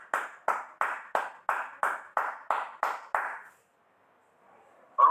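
Applause welcoming Mr. Arun comes as nine evenly spaced, crisp claps in a steady rhythm, followed by near-silence and a sudden sharp sound at the very end.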